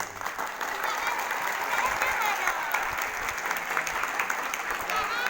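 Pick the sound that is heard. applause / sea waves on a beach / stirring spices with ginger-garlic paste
applause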